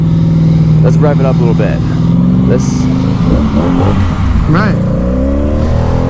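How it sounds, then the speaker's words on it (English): A Honda Magna V-twin motorcycle engine revs up and down in loud, rising and falling bursts, with a steady idle rumble underneath and people talking over it. "Let's rev it up a little bit."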